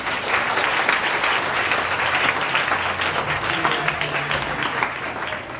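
A church congregation at a Sunday worship service applauds in a dense, steady wash of clapping that continues throughout and tapers slightly at the end.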